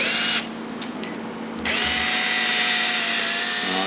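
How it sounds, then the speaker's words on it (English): A power drill spins a small bottle brush while cleaning a Rolls-Royce Silver Shadow door lock, a loud, high whine that drops to a lower, quieter spin for about a second before surging back to full speed. "So I like these little bottle brushes here. That's the right size. That you can stick in a drill."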